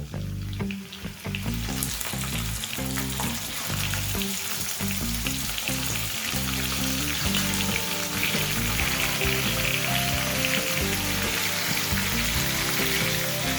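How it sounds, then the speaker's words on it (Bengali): Marinated chicken fries with browned garlic in a hot pan over high flame, a loud continuous sizzle with crackling spits, close up and steady, with stirring scrapes of a spatula. "এবার রসুনটা ভাজা হয়ে গেলে এর মধ্যে আমি ম্যারিনেট করা চিকেনটা দিয়ে দেবো।"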